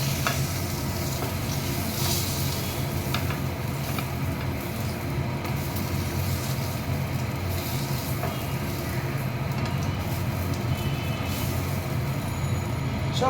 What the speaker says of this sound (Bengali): এই পটলগুলো ভাজা হয়ে গেছে, এবার আমি সব তুলে নেব পটলগুলো।